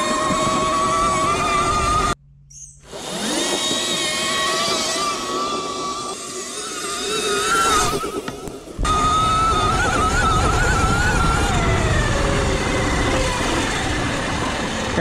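Electric motorbike from a full EBMX build with max settings riding at full throttle: a loud, rising electric motor whine with road and wind noise, broken by a brief near-silent gap, then climbing again and sustained close by.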